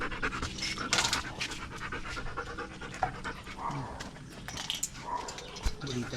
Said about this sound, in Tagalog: May isang magulong aso pa.